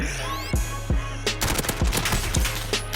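Rapid Call of Duty gunfire, loud close bursts of sharp shots in quick succession, a few spaced cracks at first and then a tight automatic rattle, with no voices over it.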